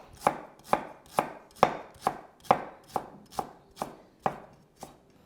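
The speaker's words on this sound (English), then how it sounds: "Slice your ginger." Ginger being sliced with a knife on a cutting board while making Hong Kong style spam and egg macaroni soup, about eleven sharp, evenly spaced chops close up with no talking.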